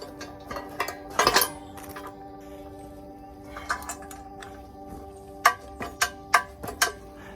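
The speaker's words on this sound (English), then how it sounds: "And now we torque it again." A torque wrench tightens the bolts of a B&W Companion fifth wheel hitch on a Ford F350, giving several sharp metallic clicks and clanks in an uneven series against a quiet shop background.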